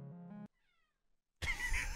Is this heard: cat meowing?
yes